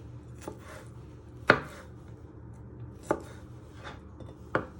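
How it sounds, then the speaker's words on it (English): A knife chops a garlic clove into little pieces on a board, with a few sharp, irregular taps spaced over several seconds, close and alone. "And then you just want to chop it into little pieces."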